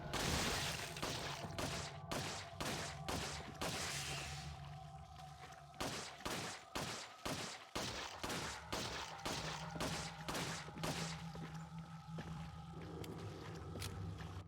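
Gunshots in Resident Evil 4 land as a steady series of sharp, evenly spaced cracks over a continuous ambient game drone, quiet overall and with no talking.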